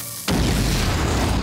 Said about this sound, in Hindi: रिको इसके नीचे एक धमाका करेगा जिससे पत्थर और मिट्टी की परतें तोड़ता हुआ ब